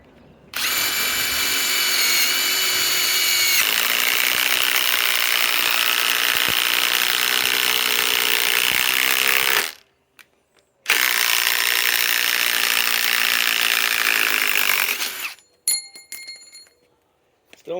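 Ryobi PSBIW25 compact impact wrench on an 8 amp 21700-cell battery, running in two long loud bursts of about nine and five seconds, then short stuttering bursts at the end.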